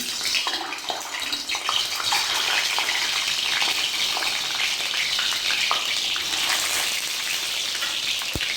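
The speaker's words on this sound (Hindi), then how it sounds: "तेल हो चुका है गरम, और अब मैं एग्स को थोड़ा सा फ्राई कर लूँगी।" Eggs frying in hot oil in a home kitchen, a loud continuous sizzling hiss and crackle close by for the whole stretch.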